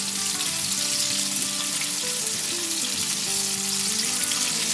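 Chicken wings deep fry in very hot oil, a loud, even, bubbling hiss that stays steady and close without any talking.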